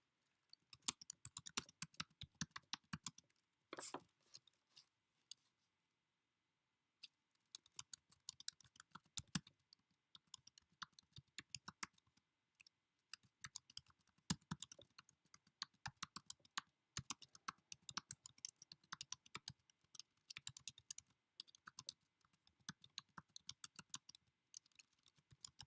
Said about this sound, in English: now we'll just type in what we need done